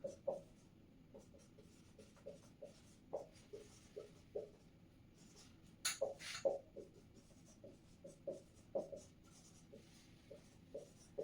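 Handwriting of equations, a pen or chalk tapping and scratching in short irregular strokes at a steady working pace, close and fairly quiet, with faint speech in the background.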